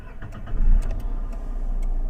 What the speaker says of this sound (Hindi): एक बार गाड़ी को स्टार्ट कर लेते हैं थोड़ा सा